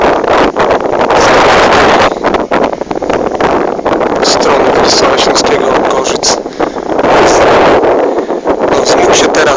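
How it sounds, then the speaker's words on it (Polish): Strong wind roars across the microphone beside a fast-spinning wind turbine overlooking the sea in the Czech Republic, a loud continuous buffeting that surges and eases in gusts, with a person speaking over it. "Wiatr bardzo silny"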